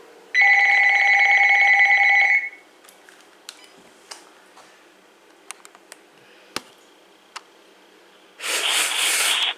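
An electronic ring from a Uniden EXAI5680 cordless phone, a steady warbling tone lasting about two seconds, then quiet clicks and taps, and a burst of noisy hiss at the end.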